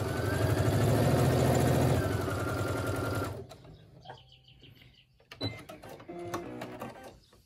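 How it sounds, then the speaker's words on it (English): A Brother SE1900 sewing machine stitches a fabric face mask, its motor running in a loud, steady buzz for about three seconds before stopping, followed by quieter handling clicks and rustles. "we're going to sew what we just ironed"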